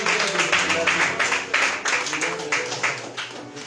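A church congregation at a Sunday service in Cocody claps in a steady rhythmic beat, about three claps per second, loud and close, with voices talking over it.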